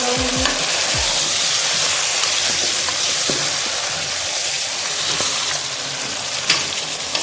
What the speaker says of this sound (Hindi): फ्रीज हुआ है तो मैं इसे कुकर में जल्दी बनाऊंगी। ठीक है, इसको मैं थोड़ा सा हिलाऊंगी।